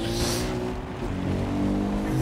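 A quad bike engine in the video game Far Cry 3 drones loudly and steadily, a rough, continuous motor roar that swells slightly with no break.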